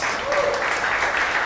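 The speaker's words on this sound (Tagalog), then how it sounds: "Palakpakan po natin si Jesus." A church congregation claps for Jesus at a New Year's Eve service, a dense, steady wash of applause filling the whole moment with a brief voice or cheer rising through it.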